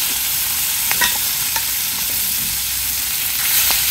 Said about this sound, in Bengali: এখন আমি এই একটু তেলে মাছটা ভাজি করব